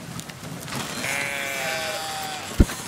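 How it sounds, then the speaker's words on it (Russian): Rams bleating in the video game Brothers: A Tale of Two Sons, one loud, drawn-out wavering bleat that fills the middle of the moment, followed by a sharp thump near the end. "На самом деле, это такие бараны"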